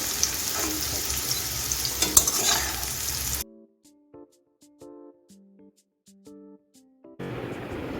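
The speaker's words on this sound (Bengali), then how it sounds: "এভাবে নেড়ে ফেলে উচ্ছেটাকে ভেজে নিতে হবে" Bitter gourd frying in oil and stirred in a pan, a loud close hiss with scraping for about three seconds, then a break of soft tonal notes before the sizzle returns at the end.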